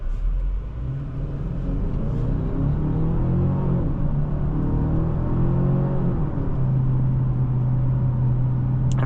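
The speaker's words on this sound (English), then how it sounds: "And for a 4-cylinder, this vehicle sounds pretty good." A Genesis G70 2.5T Prestige four-cylinder engine drones steadily from inside the cabin on a test drive, a smooth low hum whose pitch rises and falls gently with throttle, no voices over it.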